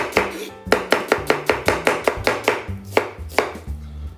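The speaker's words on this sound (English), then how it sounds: "Slice the onion." A knife slices an onion on a chopping board, giving a run of about fifteen crisp, evenly spaced cuts in a quick steady rhythm, close and clear with no talk.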